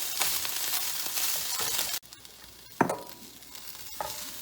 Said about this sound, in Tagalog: Stir lang natin sa lahat. Parang stir lang siya ng konti.